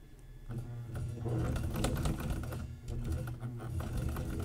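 A sewing machine runs continuously along a long seam in a laptop bag, with a steady, rapid mechanical rattle and a slight hum throughout, fairly faint and without speech.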